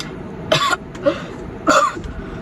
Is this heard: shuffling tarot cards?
no